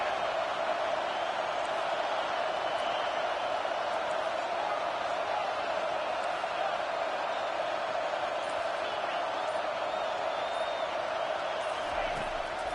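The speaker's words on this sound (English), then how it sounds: "This crowd is trying to inspire this defense to make a big red zone stop." A stadium crowd roars in a college football video game during a red zone defensive stand, a dense, steady wall of cheering that holds at the same level throughout.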